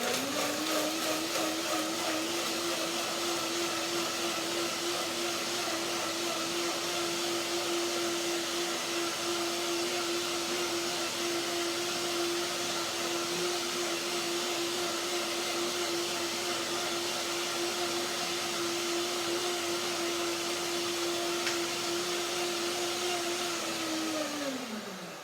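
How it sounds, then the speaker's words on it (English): A blender whirs through sesame seeds and cashews, a steady motor drone holding at one even pitch for about 25 seconds before spinning down. "I'll blend the second time to make it really creamy."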